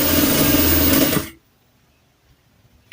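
A sewing machine runs a loud, steady stitching burst along a gathering seam on a children's skirt, then stops abruptly into near silence.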